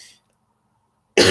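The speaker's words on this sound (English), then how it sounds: "I'm sorry, I don't think anyone hear me cough." A single cough bursts loud and close right at the end, after a short fading sound and near silence.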